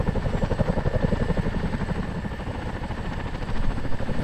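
Heavy, steady rotor drone of a CH-47D Chinook twin-rotor helicopter in Microsoft Flight Simulator, a close, continuous pulsing thrum with engine whine, swelling slightly near the end, with no talking.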